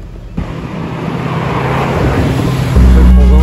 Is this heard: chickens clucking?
no